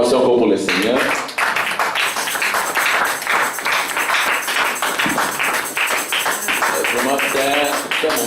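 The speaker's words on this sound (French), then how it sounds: "Acclamation encore pour le Seigneur." A church congregation applauds, steady dense clapping lasting several seconds, with voices speaking and calling out over the claps at the start and end.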